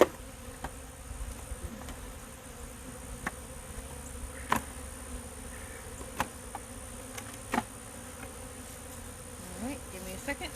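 Honey bees swarm around a hive frame in a steady, close buzzing drone, broken by a few faint knocks and clicks, with no talking.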